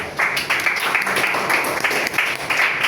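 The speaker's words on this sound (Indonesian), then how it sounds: "kasih tepuk tangan dulu." Classroom applause from a group of seventh-grade students after a group presentation, a steady wash of clapping filling the short moment at moderate loudness with no talk over it.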